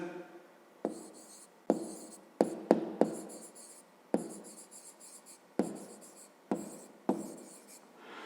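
A pen writes out a fifth-grade math exercise on paper, a series of quiet, separate scratchy strokes with short pauses between them, close by and alone.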